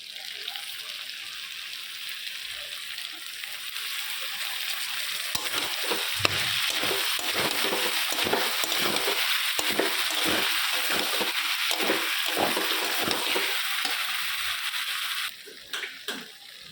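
Mushrooms dropped into a pan of spiced masala sizzle and hiss steadily, with a burst of stirring and scraping in the middle and the frying noise running throughout before it cuts off near the end.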